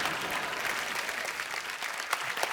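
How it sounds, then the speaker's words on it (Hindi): A studio audience on The Kapil Sharma Show claps loudly, a dense, steady roar of many hands heard fairly close and continuing without a break, with no talk over it. "एक बार जोरदार तालियां"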